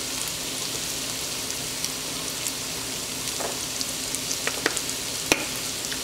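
A chicken filling for flautas sizzles steadily in a pan, a continuous close hiss with a few scattered pops and light stirring taps.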